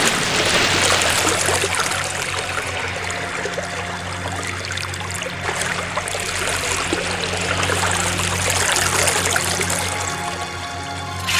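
Steady broadband rush of a flowing river, continuous and fairly loud throughout, used as a sound effect in a radio drama where a character must wade into the river near a burning, collapsing forest.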